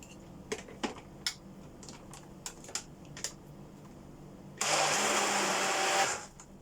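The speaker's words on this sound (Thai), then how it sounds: "มาแล้วเราก็มาปั่นอีกรอบหนึ่งนะคะ เพื่อให้ส่วนผสมเข้ากันนะจ้ะ" A blender whirs loudly for about a second and a half, mixing green leafy vegetable juice with milk powder, after a run of scattered clicks and taps from handling the jar.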